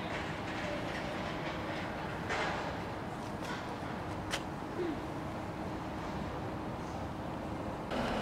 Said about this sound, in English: train to Liverpool Lime Street on platform 5, the newly built platform 5